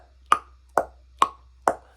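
Four evenly spaced closed-mouth tongue clicks against the roof of the mouth, a vocal rimshot imitation, each a crisp hollow pop, close and alone.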